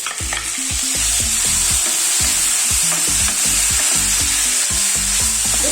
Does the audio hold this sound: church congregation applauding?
no